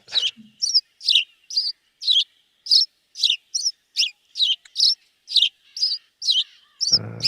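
Continuous run of repeated bright house sparrow chirps, rapid and evenly spaced, close by, ending with a short burst of low noise.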